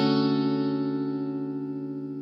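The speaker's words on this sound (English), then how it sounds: "If we now turn that minor 7 into a major 7, we get the major 7th chord" A sustained major seventh chord rings out alone with steady layered harmonics, processed with effects and reverb, fading gently over about two seconds.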